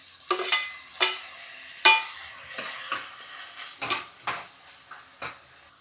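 Chopped tomato hits a hot pan for tomato rice, sizzling steadily while a spatula scrapes and stirs in about eight distinct strokes, close up with no talking.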